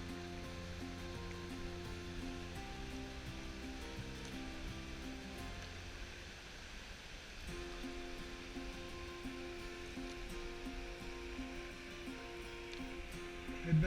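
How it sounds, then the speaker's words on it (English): Water pouring over a dam spillway in winter, a steady rushing roar heard from a canoe nearby, continuous and fairly faint, with no voices. "The water's going over the dam."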